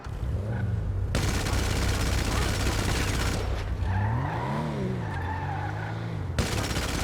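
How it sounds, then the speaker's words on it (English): Machine guns firing from a Dewbauchee JB 700W car in GTA Online, sustained dense bursts that cut out and resume, mixed with engine hum and a rising and falling tyre skid. "these are just basic, like, machine guns"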